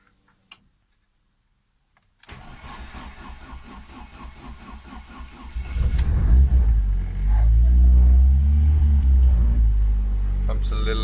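A Ford ST170 track car cranks with a rapid ticking starter after a near-silent pause, then catches and settles into a loud, deep, steady idle rumble close by.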